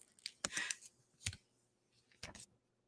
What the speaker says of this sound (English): And so we'll go ahead and we'll unwrap it.